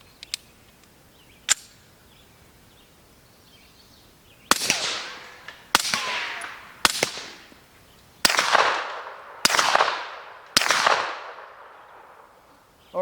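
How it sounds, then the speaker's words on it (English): Suppressed 9mm pistol fires six spaced shots, sharp close cracks each trailing a short decay, the first three subsonic and the last three supersonic and noticeably louder, after two faint earlier clicks. "I have 3 rounds of subsonic followed by 3 rounds of supersonic"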